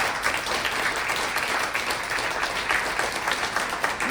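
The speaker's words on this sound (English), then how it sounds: "give them a big round of applause" Audience applause for the judges at a live East Texas songwriter showcase, a steady, dense wash of clapping from a crowd that holds at an even level for the full stretch without any talk over it.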